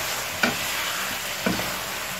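Fried pepper hake fish being stirred in a pan, a steady frying sizzle with two distinct scraping stirs of the utensil against the pan.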